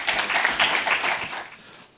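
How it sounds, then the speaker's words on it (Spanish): An audience claps at a cybersecurity panel session, a dense patter of many hands that swells briefly and then fades out toward the end, with no voices. "Un aplauso."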